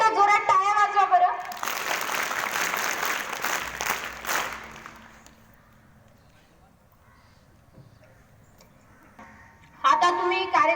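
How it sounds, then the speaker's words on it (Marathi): A crowd at a Shivaji Jayanti lecture claps loudly for about three seconds. Someone speaks just before and after, with a quiet pause between the applause and his next words. "त्यांच्यासाठी एकदा जोरात टाळ्या वाजवा बरं."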